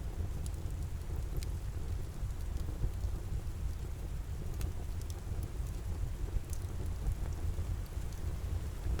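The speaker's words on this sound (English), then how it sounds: "The rain remains steady," Steady rain falls as an even, continuous hiss and patter with a low rumbling undertone, neither building nor fading, with no voices.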